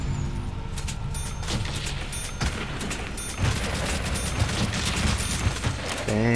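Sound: gunfire shooting zombies in video game World at War

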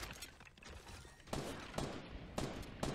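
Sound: gunfire in the Fortnite video game

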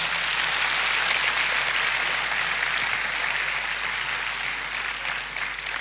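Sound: church congregation applause

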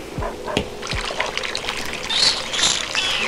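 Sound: water pouring in Toca Life World video game

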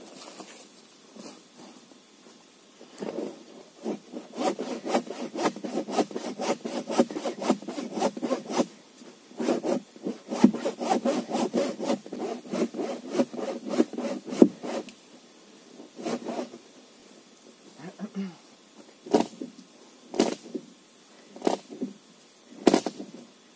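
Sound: hand sawing a wooden log

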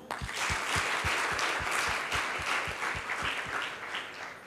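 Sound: audience clapping

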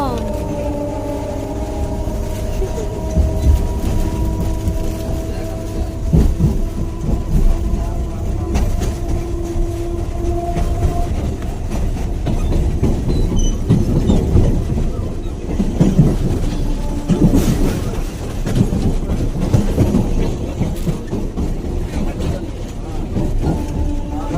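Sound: riding on a train

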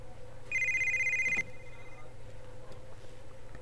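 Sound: telephone ringing in GTA Vice City video game

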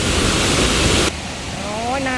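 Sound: strong waterfall at Doi Inthanon

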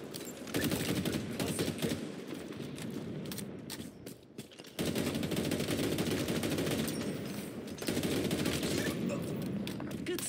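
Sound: gunfire in Halo Infinite live fire exercise, video game

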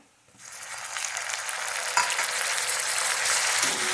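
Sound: sautéing tomato with onions in a pan

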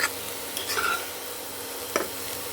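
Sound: frying and stirring potatoes in a pan

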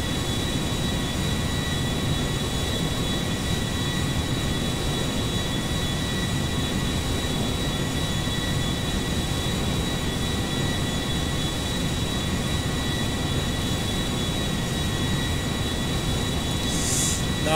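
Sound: Airbus A350 airliner flying, from video game GTA 5

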